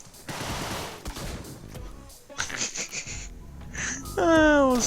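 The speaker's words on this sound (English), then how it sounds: "Ooh, Tommy gun. I got a Tommy gun." Rapid automatic gunfire from a Tommy gun in the game Deadbolt, loud bursts of close shots with a person talking and making noises over them.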